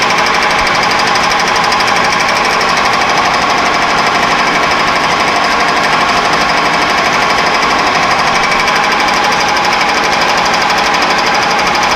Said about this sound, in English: I love my fly cutter.